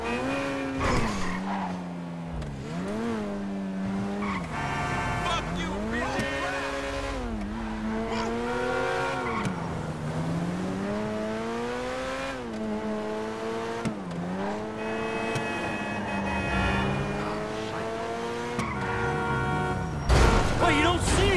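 A car in GTA 5 drives hard, its engine revving up and down in repeated surges while tires squeal through the turns. The sound is continuous and fairly loud, with brief bursts of talk mixed in.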